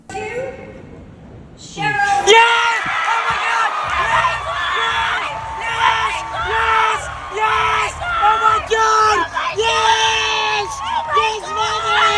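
An Emmy 2022 audience gives a standing ovation, with sustained cheering, whoops and crowd hubbub close by, mixed with a voice.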